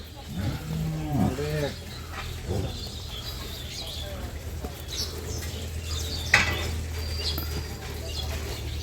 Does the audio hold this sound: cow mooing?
yes